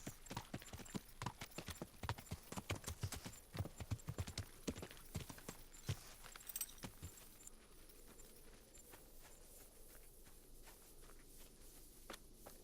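Horse hooves clip-clop in a steady walking rhythm within the medieval game Kingdom Come: Deliverance, close and distinct at first, then fading into a softer ambient bed in the final seconds.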